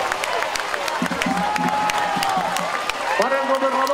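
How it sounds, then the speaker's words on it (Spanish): Crowd in Plaza Lerdo applauds and cheers for Veracruz governor Miguel Ángel Yunes, steady clapping with cheering under an amplified announcer's voice. "El aplauso fuerte, señoras y señores,"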